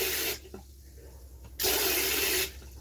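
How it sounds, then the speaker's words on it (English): A newly plumbed shower sprays water in two loud bursts, switched on and off, with a clack of the fitting between them and a low steady hum underneath. "So to turn the shower on, you turn that knob to up and then squeeze the back of the shower head."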